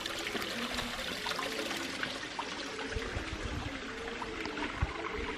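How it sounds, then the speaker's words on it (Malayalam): Water trickles and splashes steadily down a small waterfall into a pond at Wadi Shees in Fujairah, a continuous, close, even rush with no voices. "വെള്ളം ഒലിക്കുന്ന ഇവിടുത്തെ ശബ്ദമായിരിക്കും നേരത്തെ കേട്ടത്"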